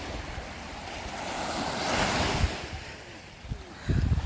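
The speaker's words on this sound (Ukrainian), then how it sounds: "Такі хвилі красиві." Sea waves breaking on Langeron beach in Odesa, a rushing wash of surf swelling and receding with heavy wind buffeting the microphone, ending in louder gusty thumps.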